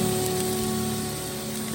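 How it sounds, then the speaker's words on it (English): Rain falls steadily on a campsite while camping solo, a dense, even hiss close by with a constant low hum beneath it, no talking. "Well, it's still raining out there."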